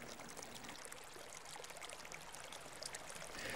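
A brook flows steadily behind a house, a continuous broadband rush and trickle of water that stays even and fairly close throughout, with no voices.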